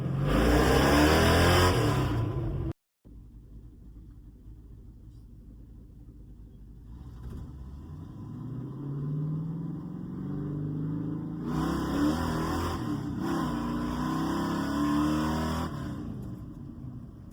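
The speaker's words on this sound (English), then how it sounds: "Burning the tires off of it." A 1979 Ford fitted with Holley Sniper 2 EFI does a burnout. A loud engine roar cuts out briefly, then returns as a sustained, rising rev that swells and holds, heard close outdoors.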